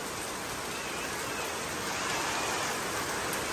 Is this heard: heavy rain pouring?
yes